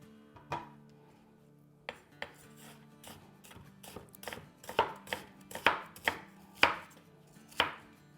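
A knife chops vegetables on a cutting board for vegetable pancakes, about a dozen crisp, close strikes that start sparse and grow faster and louder, with no voices.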